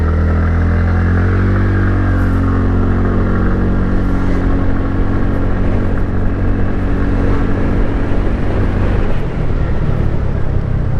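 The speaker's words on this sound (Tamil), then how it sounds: "வண்டியோட இனிஷியல் பிக்கப் வந்து ஸ்ட்ரீட் மோட்லேயே செம்மையாக இருக்குது." TVS Ntorq 125 scooter accelerating hard in street mode, its engine note droning steadily and loud up close with a rising tone, no talk over it.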